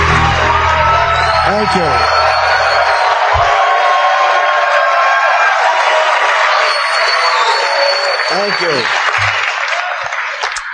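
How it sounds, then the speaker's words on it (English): Comedy club audience for a stand-up set applauding and cheering loudly and continuously, with whoops rising over dense clapping as someone speaks briefly over the noise. "You guys sound like a really nice crowd"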